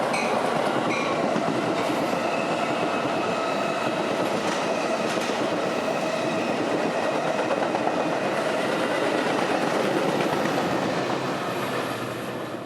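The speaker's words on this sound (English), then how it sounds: "Right on his heels would be train 1244, following the same route with another packed train." A Metra commuter train packed with passengers rolls past on the Chicago main line, a steady loud rumble of wheels and cars with faint clickety-clack and a thin wheel squeal, holding close and constant throughout with no voices.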